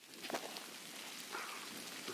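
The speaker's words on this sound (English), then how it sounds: "It's hailing. There's thunder." Hail pattering steadily on the ground and leaves beneath trees in a thunderstorm, a dense, even hiss of small impacts heard close.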